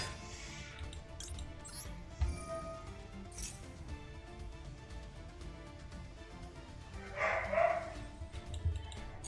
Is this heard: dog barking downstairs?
yes